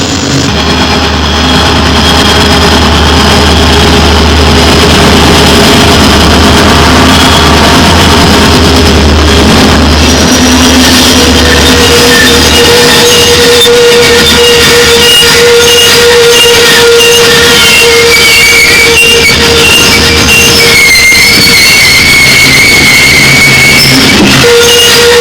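A locomotive in dynamic braking rounds a sharp 11-degree curve, a loud continuous droning hum with steady tones and rising whines, no talk heard.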